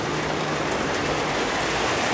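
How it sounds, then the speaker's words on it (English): Steady rain falling outdoors during work on a Cummins engine test fit; a loud, dense, continuous hiss of drops on surfaces, close and unbroken, with no voices. "Freaking rain, go away!"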